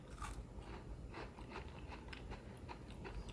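A crunchy Okinawan shortbread cookie being bitten and chewed up close, with a quiet run of crisp crackling crunches and small clicks throughout.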